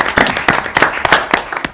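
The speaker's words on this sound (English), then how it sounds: "I want to give you guys a round of applause for serving on commissions" Audience applause at a city council meeting honoring commission volunteers, a small crowd clapping briskly and unevenly, individual claps sharp and distinct, fairly close and loud.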